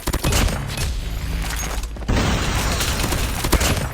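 Gunfire in the mobile shooter game Call of Duty Mobile crackles in loud, dense bursts with booming impacts, filling the clip continuously with a brief gap partway through.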